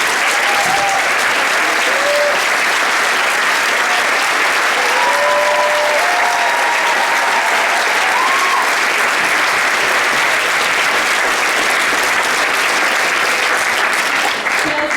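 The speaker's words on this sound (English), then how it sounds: "Please stand up and let's give them a big round of applause" Sustained applause from a standing concert audience honoring the musicians, a dense, even wash of many hands clapping for the full length, with faint whistles or cheers rising above it.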